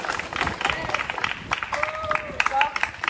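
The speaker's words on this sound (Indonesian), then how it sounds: "Oke, tepuk tangan." Students clap together during a school physical education lesson on the crouch-style long jump, a ragged burst of hand claps mixed with young voices and chatter, fairly close and steady for a few seconds.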